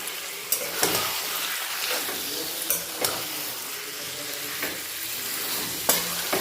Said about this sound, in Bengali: এখন আমি দিয়ে দিচ্ছি এই কুচু করে রাখা চিকেনগুলো। চিকেনটা সব মশলার সঙ্গে ভালো করে মাখিয়ে নেব।